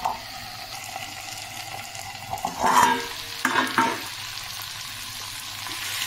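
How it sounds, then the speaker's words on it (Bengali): Boal fish head and vegetables fry together in a pan with a soft continuous sizzle, with a burst of louder stirring and scraping in the middle. "এইবারে মুড়োর সাথে সবজি দিয়ে এটাকে ঢাকা দিয়ে আমি আরও 3 থেকে 4 মিনিট একটু ভাজা ভাজা করে দেব।"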